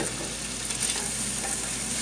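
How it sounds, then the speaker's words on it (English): Stew ingredients frying in oil in a pan, giving a steady, dense sizzle with soft crackle, close and continuous, with no voices. "Then we're gonna fry this another time."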